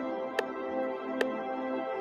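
Three sharp rim-shot style metronome clicks from the Prime app sound at a steady tempo over a sustained backing tone, each tick brief and crisp, with no one speaking.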